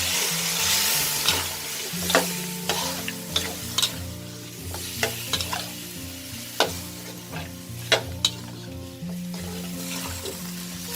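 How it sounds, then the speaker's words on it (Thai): Chili curry paste with shrimp paste stir-fries with a splash of water in a pork rib coconut curry, a constant close sizzle punctuated by sharp, regular scrapes and knocks of the spatula against the pan. "แล้วก็เครื่องแกงพริกนะลงไปเลยค่ะ และเติมน้ำลงไปเล็กน้อยค่ะ"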